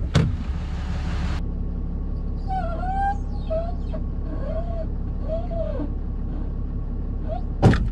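A car engine runs at a steady, loud low idle throughout, with a brief burst of noise at the start and a faint voice moaning or crowing over the drone near the middle.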